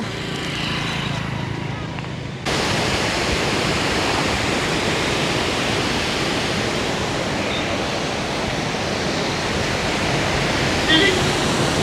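Released water from Mettur Dam gushes past a bridge in a steady, loud roar like a waterfall, continuous and broadband, stronger after the first two seconds.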